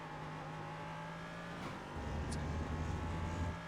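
Ligier JS320 LMP3 race car engine in iRacing at the Hungaroring: a steady droning engine note that deepens and grows louder near the end as the throttle is picked up in second gear, with a brief higher-pitched whine.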